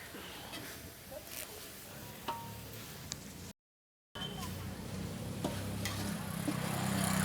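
Onions and curry leaves sautéing in a pan for chicken gravy at a mess hotel kitchen, a steady close sizzle with occasional stirring scrapes, continuing after a brief gap.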